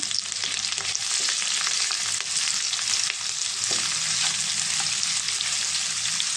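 Onions tossed into a pan where dried shrimp have been frying, giving a loud, continuous close sizzle with occasional faint scrapes of stirring, no voices.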